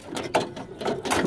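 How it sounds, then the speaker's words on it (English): A spring is pried off a Craftsman riding mower deck, giving a few close metallic clanks and scraping rattles in quick, uneven succession with no talk. "spring needs to come off right here."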